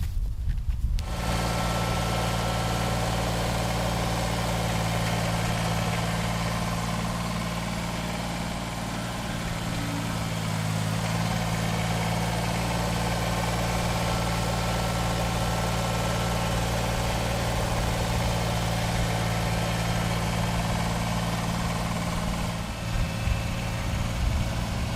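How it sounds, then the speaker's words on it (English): A tractor engine idles steadily at close range, a loud continuous low rumble with a constant mechanical drone and no talk. "so I could shovel, or I could use the tractor. Guess which one I picked?"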